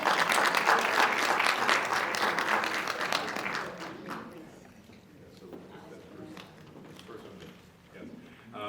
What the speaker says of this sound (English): You give her a round of applause.